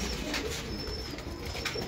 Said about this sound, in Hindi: छोटे छोटे कबूतर हैं।